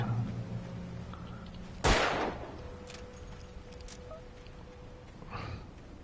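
A single loud, sharp gunshot in Alan Wake Remastered cracks out and decays into a short tail, then a fainter burst follows against a quiet, humming game backdrop.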